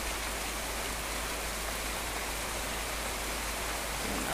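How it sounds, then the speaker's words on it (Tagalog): A constant roaring downpour over a vegetable garden, thick hiss of rain falling hard nearby, even and unbroken throughout without any talking. "Ayan na naman siya, umuulan na naman"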